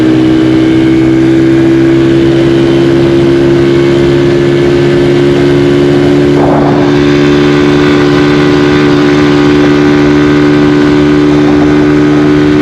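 A Honda CD 70 motorcycle, 2022 model, runs at a steady, loud engine drone while being ridden and accelerated on a road, with a sustained even hum throughout and no talk.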